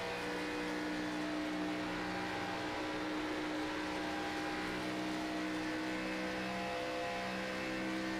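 Race cars lap Michigan International Speedway in an online racing video game, their engines droning steadily and loudly as drivers work on and off the throttle.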